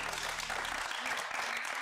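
A crowd claps continuously, a dense wash of applause that holds steady for the whole stretch.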